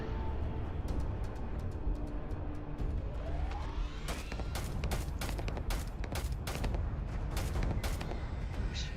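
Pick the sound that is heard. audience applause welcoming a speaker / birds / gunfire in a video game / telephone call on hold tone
gunfire in a video game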